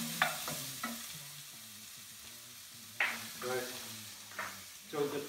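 Vegetables and onions sizzle in a hot pan for a Spanish chicken dish, a soft steady frying hiss broken by scraping stirs and clatters, with a voice in the background.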